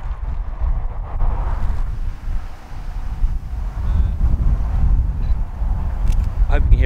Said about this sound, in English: it's really windy up here on the plains.